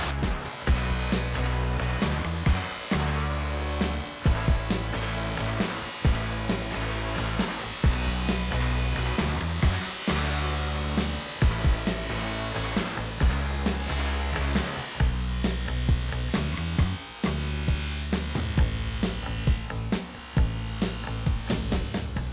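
A power tool's polishing wheel works over a metal part, giving a loud, continuous motor whine with rhythmic dips as the wheel is moved across the surface, heard up close without talk.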